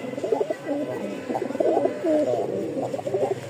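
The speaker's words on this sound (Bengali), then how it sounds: "তো আজকে যে কবুতরটা দেখতে পাচ্ছেন" Several pigeons coo continuously nearby, overlapping low rolling calls with no talking.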